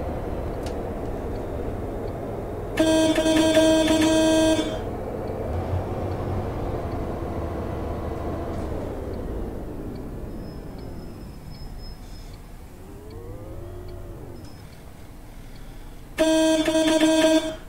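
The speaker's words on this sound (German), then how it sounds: "von einem Autobus die Hupe ist geil" Two loud bursts of a deep, multi-tone horn from a MAN bus in the game OMSI 2, one early and one near the end, with a steady engine rumble between them.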